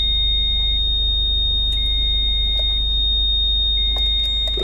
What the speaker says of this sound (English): I guess the beeping does tell you that the roof's up